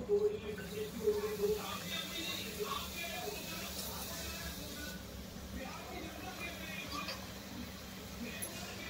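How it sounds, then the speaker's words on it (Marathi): Karanji pastries frying in hot oil, a steady crackling sizzle running throughout, with a voice talking over it. "तळून घेऊया. तेल तापलंय."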